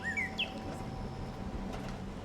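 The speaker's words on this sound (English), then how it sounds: "this little cute little mailbox thing that summons a little cardinal" A small cardinal summoned from a cute mailbox decoration in Fallout 76 gives a few quick rising chirps and whistles near the start, then falls quiet over a steady low ambient hum.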